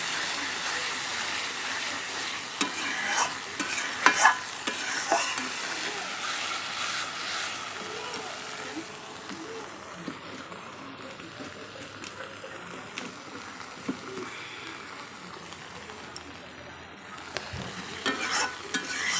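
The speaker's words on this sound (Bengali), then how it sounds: "মশলাটা মোটামুটি ভাজা হয়েই আসলে আর একটু কষবো, যেহেতু তেল ছুটে এসছে" A spice paste for fish fries in oil that has begun to separate and is stirred in a pan. A continuous soft sizzle runs throughout, broken by scraping stir strokes and occasional clinks, fairly close and moderately quiet.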